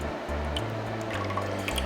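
Sesame soy marinade poured into a vacuum sealer canister on a VacMaster PRO305 in marinating mode, a steady close liquid trickle and drip lasting a couple of seconds, with no talk.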